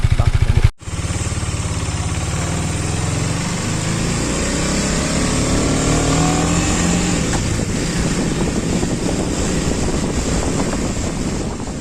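A KTM Duke 250 BS6 motorcycle moves off and rides steadily, its engine drone climbing through the gears under heavy wind rush against the microphone.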